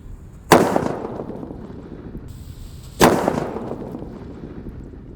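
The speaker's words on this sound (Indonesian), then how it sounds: "selanjutnya di sini ada mercon buntelan kertas yang kedua" Two sharp bangs from paper-wrapped firecrackers, about two and a half seconds apart, each a loud crack followed by a short fading echo in an otherwise quiet outdoor setting.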